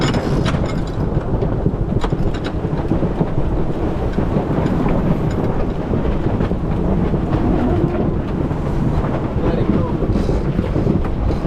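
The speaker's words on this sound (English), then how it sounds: "there's another squall coming in, the wind's picking up." Strong, steady squall wind of about 30 knots or more on a sailboat in the South Pacific roars and buffets continuously, a low rumbling rush with gusty fluctuations and no clear voices.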